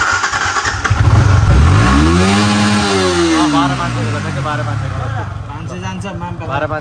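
A Yamaha R15 V3 motorcycle engine revs up sharply to a high, strained whine at its 12,500 rpm limit, holds briefly, then falls back to a rough idle.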